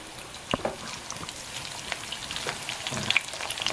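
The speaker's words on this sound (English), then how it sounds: "Now while everything is browning, I'm going to be tossing that" Turkey cutlets brown in a frying pan, giving a light crackling sizzle with scattered pops and a few soft utensil taps, fairly quiet and without talk.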